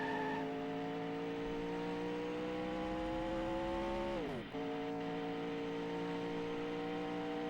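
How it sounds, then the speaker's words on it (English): Car engine in the PS2 street racing game Pimp My Ride, a steady harsh droning engine note with stacked tones slowly rising, dipping sharply as if shifting gear, then resuming its whine, with no talking. "I want to drive slow just to avoid that angry engine note."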